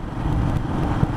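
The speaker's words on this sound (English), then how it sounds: "A few cars here." A few cars pass on a quiet road, heard from a moving Royal Enfield Himalayan motorcycle as a low, steady rumble of engine and traffic without talk.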